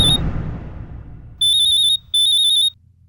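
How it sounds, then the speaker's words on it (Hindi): A phone rings with an incoming call from mom: two bright, electronic trilling bursts, close and loud, following a fading low rumble, with no talking. "मम्मी का फोन है।"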